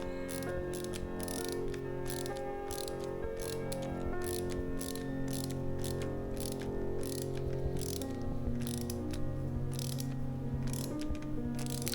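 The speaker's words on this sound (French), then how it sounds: "on met sa clavette, on retourne, on met l'écrou et on visse l'écrou" A nut is tightened onto the cotter pin of a vintage Peugeot bicycle crank with a ratchet, giving a steady run of close, rhythmic mechanical clicks throughout.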